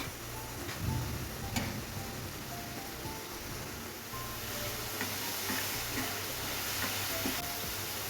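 Onions, red chili powder and spices sauté in a pan with a soft, steady sizzle and occasional stirring clicks, fairly faint and without speech.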